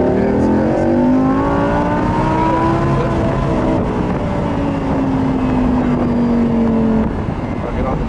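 A race car on a track accelerates hard at full throttle, its engine note climbing steadily in loud sustained pitch sweeps, with a driver's voice talking over the roar.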